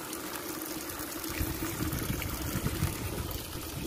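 Water running from a repaired farm pipe in the dry backcountry, a steady splashing stream heard close and fairly loud, continuous through the whole stretch with no talking.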